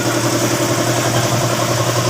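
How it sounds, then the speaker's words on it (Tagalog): A Toyota Rush engine idles steadily after starting, a loud, even mechanical hum with fine rhythmic vibration throughout, no voices. "paandarin na natin yung makina para yung oil mag-circulate na sa loob"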